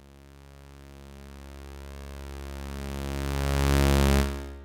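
A synthesizer tone with a slow attack envelope holds a steady pitch rich in harmonics and swells gradually louder over several seconds, then cuts off abruptly near the end, with no talk.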